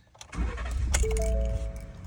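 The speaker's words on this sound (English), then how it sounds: "I just want to show you how nicely this thing starts up" A 2018 Ford F150 pickup with high mileage cranks briefly and its engine catches almost at once, settling into a steady, close idle; a few small metallic clicks come just before the start.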